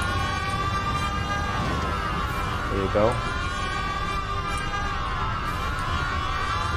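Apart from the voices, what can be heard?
police car sirens in video game Mafia 1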